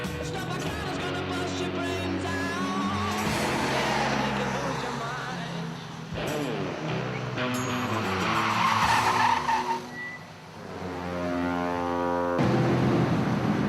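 A rally car accelerates hard out of a bend, the engine revving up through the gears as the tyres skid and squeal on the surface, loud and close.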